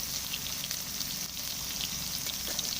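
Steady, close sizzling of brinjal pieces frying in hot oil, continuous crackle with no voices.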